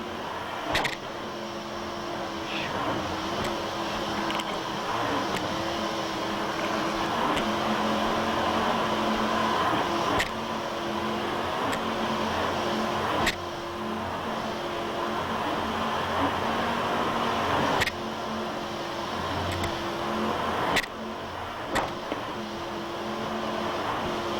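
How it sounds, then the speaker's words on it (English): A racing powerboat engine under throttle at the 1995 Key West World Championships, heard as a steady, loud drone with a sustained low hum and broadband roar, punctuated by occasional sharp clicks and knocks. "Nice throttling there by Bill Gifford."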